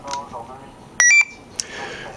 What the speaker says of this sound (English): You'll notice there will be two beeps,